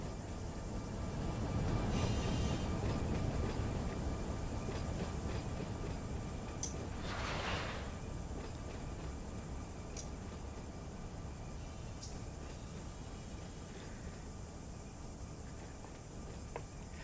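A simulated freight train rolls through a rail yard in a train simulator game, a steady low rumble with wheel noise and occasional faint squeals and clanks, continuous throughout with no talk.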